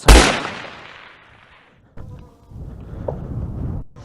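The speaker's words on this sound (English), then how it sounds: "there's a guy shooting over here. I can hear the gunshots." Gunshots in a forest: a loud, sharp blast that rolls away in a long echo, followed by a fainter second crack and some rustling and movement nearby.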